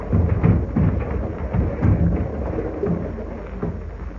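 A radio-drama storm effect for a hurricane at sea plays as a steady roar of wind and rain with low rumbling thumps rising and falling throughout, loud and continuous with no voices.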